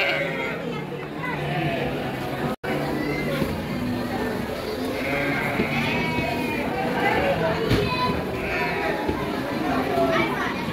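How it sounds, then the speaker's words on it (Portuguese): Sheep from Sergipe bleat repeatedly in their pen at the EXPOAGRO Alagoas 2022 agricultural fair, the calls rising over steady crowd chatter while someone talks nearby. "Aqui já são ovelhas"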